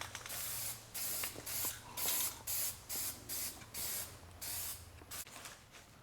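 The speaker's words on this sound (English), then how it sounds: "we got off most of the rust with a grinder, and we're just using rust reformer" Short bursts of rust reformer from an aerosol can hiss onto a rusty car seat back, about eight quick sprays in a row, close and distinct with brief pauses between.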